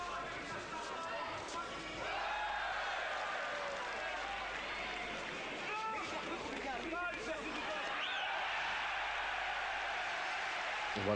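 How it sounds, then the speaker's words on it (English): Boxing arena crowd at a bout between Daniel Zaragoza and Thierry Jacob, a loud steady roar of voices and cheering that swells after a combination, with a commentator talking over it throughout. "Once again, the crowd reacting to that combination from Jacob"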